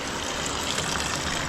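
Spring water at the Dumacaa river flows in a steady, continuous rush, close and fairly loud, with no voices over it.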